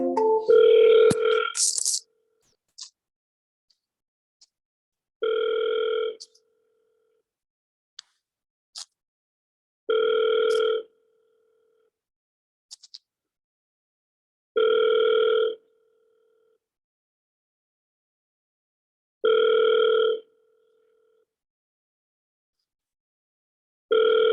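An outgoing phone call on the MyTel network rings back steadily, with five or six evenly spaced electronic ring tones about five seconds apart after a brief burst of dialing noise, clear and alone.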